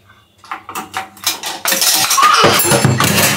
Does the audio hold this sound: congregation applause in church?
no